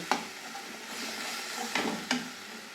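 A ground paste of ginger, garlic, green chili and cashew sautés in a hot pan with a soft, even sizzle. Three distinct spoon scrapes or knocks stand out against it, and no one speaks.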